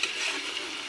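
Fried vegetables are stirred in a pan while cooking a vegetarian sabji. There is a short, close scrape-and-sizzle with steady frying hiss.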